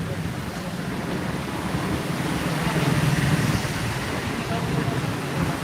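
Steady rain falls in Surat with a dense, even wash of noise and a low rumble, continuous and fairly loud throughout.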